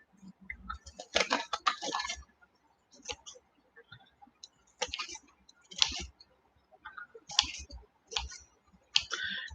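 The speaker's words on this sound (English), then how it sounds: "I'm going to trim that piece off" Scissors snipping loose ends off a smudge wand wrap at close range, giving quiet, sparse clicks and crisp cuts in short bursts separated by pauses.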